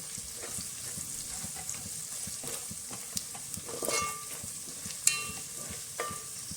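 Ground garam masala and Agri masala sizzle and fry in oil as they are stirred for a mutton curry, a soft continuous crackle broken by occasional scraping clinks of the spoon against the pan.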